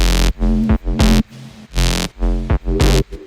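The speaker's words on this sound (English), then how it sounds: "So I'd like to start with this mono bass" A punchy synth bass plays a choppy mono line of short, loud stabbed notes with gaps between them.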